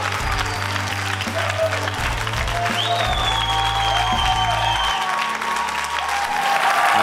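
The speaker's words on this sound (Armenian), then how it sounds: "եկեք ծափարենք" A studio audience claps continuously and loudly at a talent show, a dense unbroken wash of hand claps over steady background music, with no voices standing out.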